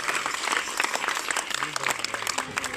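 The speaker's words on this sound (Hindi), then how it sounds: "इनके लिए एक जोरदार तालियां जरूर आप उनको लगाइए" Audience at a Bihar science-awareness event breaks into sustained, fairly loud clapping, while a voice carries on talking over the applause.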